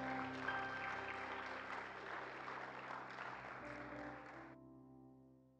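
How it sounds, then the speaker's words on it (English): Congregation applauding in a church service, a dense, steady wash of hand claps from many people that fills the room for several seconds, then stops abruptly, leaving a faint sustained organ or keyboard tone. "Give the Lord a hand clap today."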